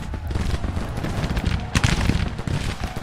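Artillery and massed musket fire rumble across a Civil War battlefield in the strategy game Grand Tactician: The Civil War, a dense stream of booms and crackling volleys, loud and continuous.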